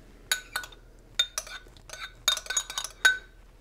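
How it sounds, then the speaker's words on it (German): A spoon clinks and scrapes against a bowl while a tandoori chicken marinade of yogurt, garlic, ginger and oil is stirred, irregular bursts of close metallic chinks with brief pauses between. "Und das mischen wir jetzt erstmal ein bisschen durch."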